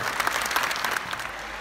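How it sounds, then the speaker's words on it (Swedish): Applause from the audience for players at a youth basketball cup, a steady burst of clapping heard fairly close that fills the short moment and holds even to the end. "Ge dem en stor applåd."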